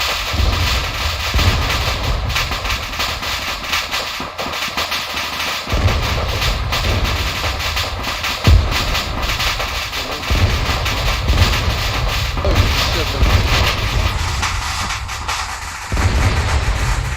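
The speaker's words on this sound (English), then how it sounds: "Those explosions are for our fallen comrades." Explosions in the military game Arma 3 rumble continuously, with heavy, loud booming blasts layered over a sustained roar and occasional sharper bangs.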